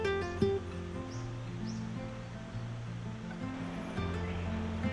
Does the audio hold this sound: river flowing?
yes